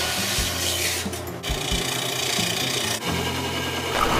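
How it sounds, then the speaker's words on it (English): A wooden toilet seat being sanded by hand, steady rasping strokes with short pauses between passes, close and clear, no voices. "So, now we're gonna sand it"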